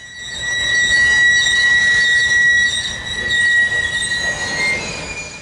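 A Vancouver-bound freight train of grain loads passes in the mountains, its wheels squealing loudly and continuously with high metallic screeches over a rumbling roll that swells and eases.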